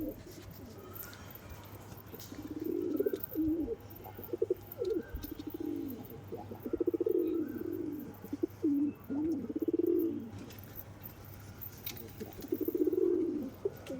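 Pigeons coo in a series of soft, throaty, rolling calls, close and fairly clear, repeating every second or two against a quiet background after a long flight.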